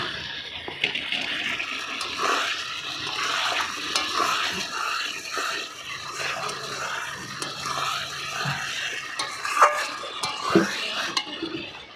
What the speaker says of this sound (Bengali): এই বেগুন আলুটা ভাজাটা দিয়ে দিলাম।